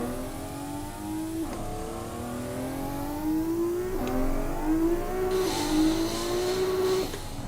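Lamborghini Revuelto in a Moza Racing sim game, engine revving up steadily through several gears with brief dips at each shift, the pitch climbing each time, loud and continuous with no talking.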